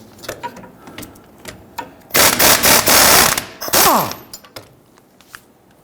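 Ratchet with an 18 mm swivel socket on a long extension turning a bolt while replacing a wheel bearing hub on a 2010–2019 Ford Taurus, with short clicking bursts, then loud sustained ratcheting for about two seconds, close up.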